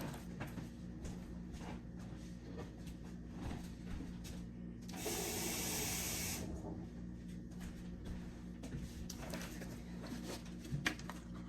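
A watering can sprinkles water over freshly planted seeds in soil, a steady hiss of spray lasting about a second and a half before cutting off, over a low background hum.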